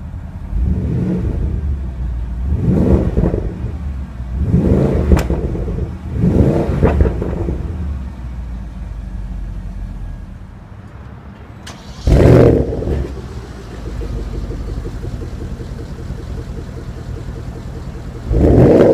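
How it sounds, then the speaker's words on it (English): A 2015 Porsche Panamera Turbo fires up and revs. Several loud, close engine surges rise and fall, then it settles into a quieter idle before a sharp blip. A second blip comes near the end. "Now let's jump into the driver's seat, start it up, and see how it sounds."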